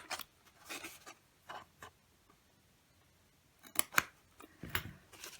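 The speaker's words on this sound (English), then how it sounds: "I am going to go ahead and cut this line here instead of keeping it as a perf" Scissors snipping along a line on a paper Valentine panda treat box, several short crisp cuts spaced apart, close and fairly faint in a quiet room.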